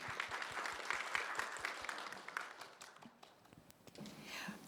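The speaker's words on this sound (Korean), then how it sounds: "여러분 박수 부탁드리겠습니다." An audience claps at a 2025 Korean fair-trade compliance program (CP) symposium, a dense round of applause that fills the first three seconds and then thins out to scattered claps.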